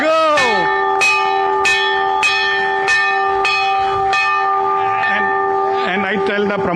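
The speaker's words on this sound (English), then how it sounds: "now you have to ring the bell very hard" A market opening bell struck hard several times in a steady rhythm at a stock exchange ceremony, each bright clang ringing on with long sustained overtones, loud and close, followed by a quicker flurry of strikes at the end.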